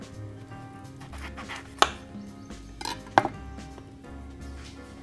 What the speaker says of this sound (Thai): หั่นรักออก